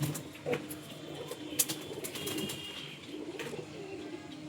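A female pigeon let go from the hand, with soft close cooing and a few quick bursts of wing flapping over a quiet room background.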